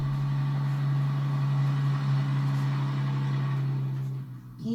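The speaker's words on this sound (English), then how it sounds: "Paul Badger's latest acquisition is a 1961 Scammell Mountaineer 65-ton ballast tractor." A 1961 Scammell Mountaineer 65-ton ballast tractor runs with a steady, deep engine hum close by, holding an even idle tone before easing off near the end.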